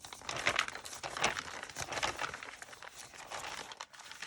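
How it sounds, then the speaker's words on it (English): Crunchy scrapbooking paper is crinkled and handled up close in repeated soft rustling bursts, steady and fairly quiet with no talking. "Love this crunchy sound of this paper."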